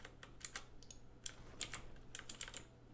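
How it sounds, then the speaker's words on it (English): Typing on a loud mechanical keyboard, a fast irregular run of sharp clicky keystrokes in close, bursty clusters over a low steady background hum. "I have a mechanical keyboard, so it is a little loud."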